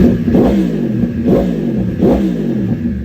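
A car engine with an SBU ECU set to A mode revs sharply three times in quick succession, loud and close, each blip rising and falling over a rumbling idle.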